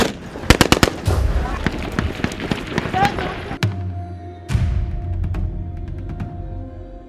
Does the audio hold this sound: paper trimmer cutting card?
no